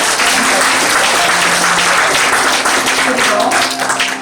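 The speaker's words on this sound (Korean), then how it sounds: "우리 목사님께 다시 한번 박수해 주시고" Church audience applauding a visiting pastor and revival preacher after a sermon, dense sustained clapping filling the room at a steady loud level, with a voice faintly audible beneath.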